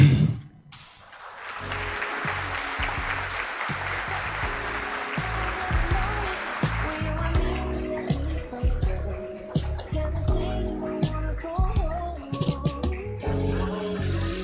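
Audience applause breaks out at a Portuguese-language tech conference as organizers take the stage, a dense wash of clapping that swells, then thins as music and stage sounds mix in toward the end.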